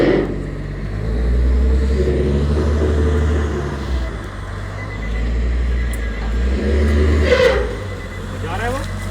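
A car engine revs after floodwater got inside during heavy rain in Dubai, a steady low rumble rising and falling for several seconds with voices talking over it.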